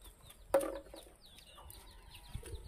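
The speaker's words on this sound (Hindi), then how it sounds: "ये अपनी मुर्गियाँ" Chickens on a farm clucking, with a sharp squawk near the start followed by softer chattering clucks and chirps, close by and otherwise fairly quiet.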